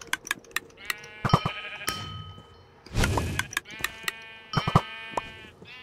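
Sheep bleat repeatedly in a video game, several overlapping calls with ringing harmonics over a clattering game background, interspersed with a thud and short dings, fairly close and clear.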